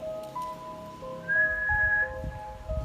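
A person whistles steady, sustained tones that shift pitch a few times, clear and close, with low rumbling background noise.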